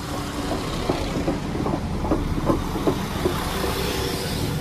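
Class 172 diesel multiple unit pulling into a station, a steady low rumble with faint rhythmic clicks of wheels over rail joints, moderately distant and even in level.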